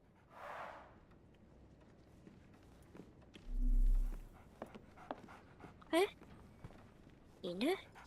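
A dog in the Sherlock Holmes The Awakened game pants softly, then gives a couple of short, rising whimpers over quiet ambient game sound.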